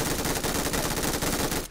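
Rapid automatic gunfire from a Valorant Mobile match, a dense continuous burst of shots rattling loudly for nearly two seconds before cutting off abruptly.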